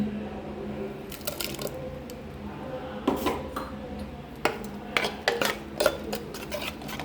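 Ground coconut paste goes into an opened pressure cooker of toor dal curry, with a run of close metallic scrapes and clinks of a spoon against the pot over a low kitchen hum.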